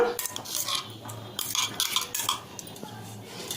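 A spoon scrapes and clinks against a steel bowl while ground methi paste is mixed into paratha dough, giving irregular close metallic taps and scrapes.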